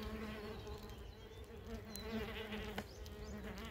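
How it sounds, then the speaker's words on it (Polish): Red mason bee chewing its way out of a nesting tube in a garden, a close, continuous insect buzz with steady droning hum throughout. "Właśnie tu widać, jak się wygryza pszczółka."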